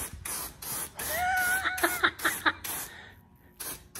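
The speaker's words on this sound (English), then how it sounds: "I don't know if you've ever seen these turbo cans before, but watch how these damn things spray." A turbo spray paint can fires several short, loud hissing bursts and then a longer sustained spray while working on a budget rat rod hot rod build. A voice exclaims over the spray near the end.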